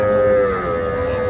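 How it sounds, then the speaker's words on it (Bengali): A young bull calf at a village cattle market gives one short, loud, close moo that holds a steady tone, with no talk over it. "এগুলা ষাঁড় বাচ্চা"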